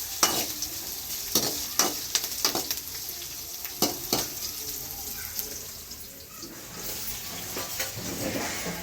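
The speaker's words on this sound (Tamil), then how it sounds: "வெங்காயம் நல்லா வதங்கும்" Onions frying in a pan for a village-style fish curry made with fresh pond fish, with steady sizzling broken by sharp scrapes and stirring clatter, close and moderately loud.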